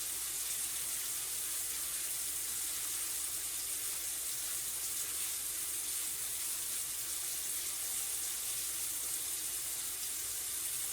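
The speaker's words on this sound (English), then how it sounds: "And you're going to rinse it off real good." Tap water streaming steadily while a Berkey water filter element is rinsed under it, a constant close hiss and splash that continues alone without pause.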